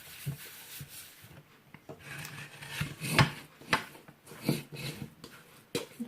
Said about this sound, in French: Je vais prendre un plateau que je vais enduire un petit peu d'huile